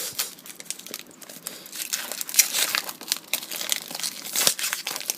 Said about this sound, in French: ce magnifique bruit de booster que vous avez tant aimé